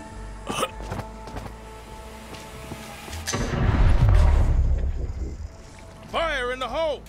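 Explosions in the zombie game Dead Island 2: a deep rumbling blast swells and fades in the middle, framed by short sharp hits and warbling game effects, with a voice exclaiming briefly.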